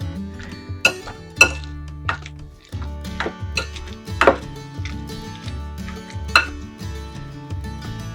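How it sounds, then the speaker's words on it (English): Potato masher pressing into cooked food in a pot over low heat for homemade chicken nachos, a series of soft thuds with light clinks against the pan, close and alone. "we're going to mash it up. I use my trusty potato masher."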